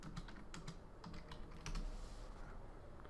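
Computer keyboard being typed on, a quick scatter of soft, fairly faint key clicks over steady low room noise with no talk.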